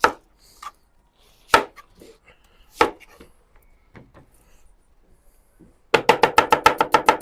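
A knife slicing onions thinly on a board: a few separate sharp cuts spaced apart, then a fast, even burst of rapid chops at the end, close and loud, with no talking.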